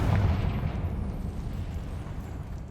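A Confringo fire spell explodes in the video game Hogwarts Legacy, a loud low boom at the start that rumbles and fades over the following seconds.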